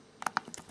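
Quick taps on a computer keyboard as a command is typed on a Pocket C.H.I.P., a short cluster of five or six close, light clicks in an otherwise quiet room.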